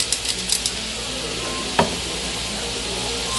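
Ground pork sautés in a pan with a steady, close sizzle, a few light clinks of the utensil at the start, and one sharp scrape partway through.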